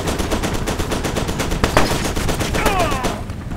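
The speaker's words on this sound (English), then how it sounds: "Sorry guys, I'm blind firing." Blind fire in the F.E.A.R. 2 shooter game rattles out as dense, sustained automatic gunfire, loud and rapid throughout, with a few impacts or ricochets layered in and a voice talking faintly over it.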